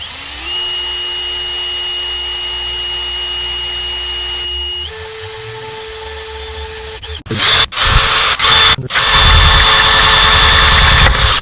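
A power drill whines steadily at first, then shifts pitch and breaks into loud, rough grinding bursts against a phone's hard display.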